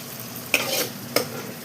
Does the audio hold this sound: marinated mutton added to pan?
yes